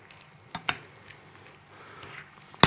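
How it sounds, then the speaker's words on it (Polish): Oil sizzles steadily in a pan, punctuated by a few sharp clinks of a utensil against the cookware, the last one loud at the end. "Niech się smażą"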